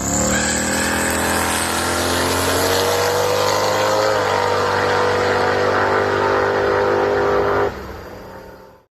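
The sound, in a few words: Ford Falcon car accelerating hard at test spot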